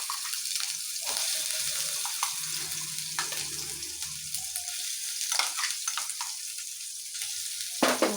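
Shrimp paste, blended from prawns, sizzles and spits in a hot pan on lowered heat, making a steady, close broadband frying hiss with small pops and stirring scrapes throughout.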